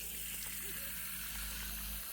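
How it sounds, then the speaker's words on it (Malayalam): Drinking water runs from a pipe beside a river in a faint, steady gush that stays even and quiet throughout. "പുഴയിൽ നിന്ന് കൈ കഴുകിയിട്ട് കുടിവെള്ളമാണിത്. പൈപ്പിൽ നിന്ന് വരുന്നതാട്ടോ."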